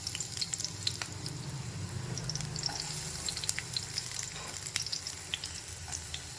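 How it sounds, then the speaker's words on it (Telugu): Onion frying in oil gives a faint, steady sizzle close by, with light crackles and a few soft taps, and no one speaks. "మనము ఫస్ట్ కొద్దిగా ఆయిల్ వేసుకొని ఆనియన్ వేయించుకుందాం"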